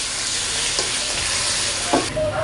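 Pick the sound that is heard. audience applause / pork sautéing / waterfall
pork sautéing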